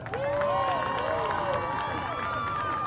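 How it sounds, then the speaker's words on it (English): Crowd applause and cheering at the SWAC Softball Tournament for an award winner from Grambling State, steady clapping throughout with voices and a whistle-like tone above it. "how about a round of applause for Lauren Urban?"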